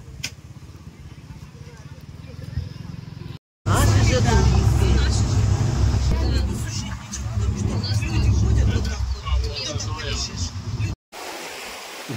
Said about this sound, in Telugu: ఇదే అండి బాత్ బస్సు